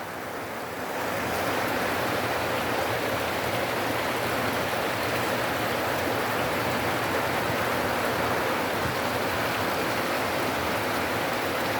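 Rain falls steadily in a mountain setting, a dense, even roar of broadband hiss that swells in over the first second and then holds constant and fairly loud.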